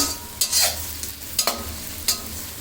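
Onions are stirred and fried in mustard oil in a pan until brown for chicken biryani: a steady close sizzle, with four or five sharp spatula scrapes at irregular intervals.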